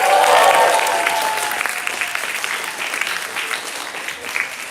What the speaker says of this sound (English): Can we also get a huge round of applause for E33,